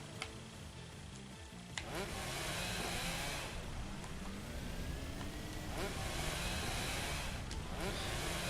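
Motorcycle engine in the game Kamen Rider Battride War II rises into a sustained revving drone with sweeping pitch changes, punctuated by a few sharp clicks and impacts, moderately loud with faint game sounds around it.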